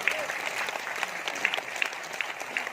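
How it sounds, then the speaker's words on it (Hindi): An audience claps at a meeting, giving steady, dense applause that fills the room without pause for a few seconds. No one speaks over it. "ताली बजाना।"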